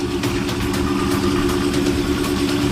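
A Ford Shelby GT500 V8 idles at a car show with a steady, loud, low rumble that holds evenly throughout, with no talking over it.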